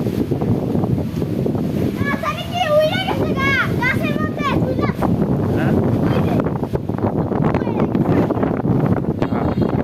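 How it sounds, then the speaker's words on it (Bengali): Strong wind buffets the microphone outdoors with a constant low rumble, while children's voices and chatter run over it throughout. "আজ অনেক অনেক বাতাস"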